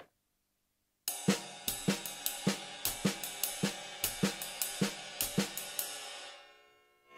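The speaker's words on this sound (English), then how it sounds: "If you put the snare on all the middle of the triplets on the trip part" Solo jazz drumming with a triplet cymbal pattern and crisp snare strokes falling on the middle note of each triplet, loose and swinging, then ringing away.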